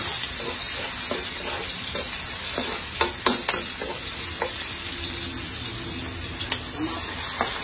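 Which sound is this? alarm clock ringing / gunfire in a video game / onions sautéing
onions sautéing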